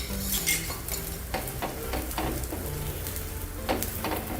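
Ghee sizzles steadily as a paneer paratha fries on a pan over low to medium heat, with occasional light clinks of a utensil against the pan.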